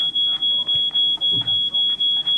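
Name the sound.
alarm ringing in video game She Could Fly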